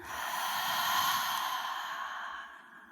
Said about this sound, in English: And then exhale, completely release out through your mouth.